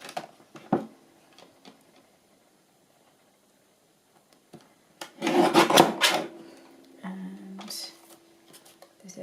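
A paper trimmer slices along the edge of a craft tag. After scattered small handling taps, a brief rasping slide of about a second is followed by light knocks as the paper is shifted.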